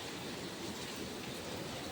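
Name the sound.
rain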